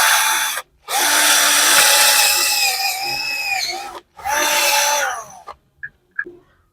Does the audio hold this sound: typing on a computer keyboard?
no